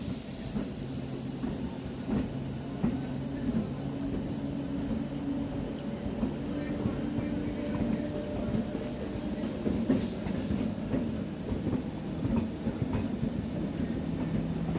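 A Lonand-Phaltan DEMU passenger train departing and running, recorded from on board as a steady rumbling roar with faint clickety-clack wheel rhythm, constant and fairly loud throughout, with no voices.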